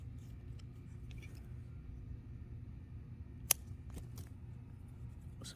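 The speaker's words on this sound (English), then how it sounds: "So I want to trim off all of this here" Scissors trimming sage stems during a garden herb harvest, one sharp close snip standing out midway with a few softer clicks after it, over a low steady rumble of nearby traffic.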